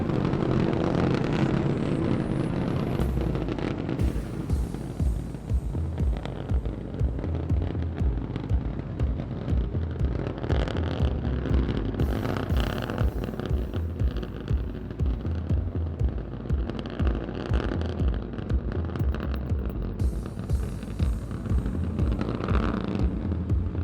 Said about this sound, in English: we get a view of the 3 Raptor engines as we're powering our way to 10 kilometers altitude in today's test flight